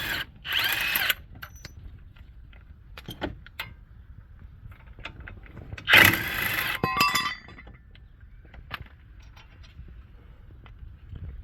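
A power drill on the front brakes of a 2006-13 Suzuki SX4 whirs in two short bursts, about a second each and several seconds apart, near and fairly loud, with faint metallic clinks between.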